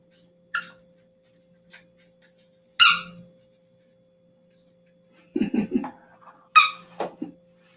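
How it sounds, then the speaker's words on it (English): A Great Dane and Boxer mix chomps a squeaky ball toy in a motel room, producing four sharp squeaks spaced apart, separated by quiet gaps, one of them a longer, wheezy squeeze. "He's got a squeaky ball."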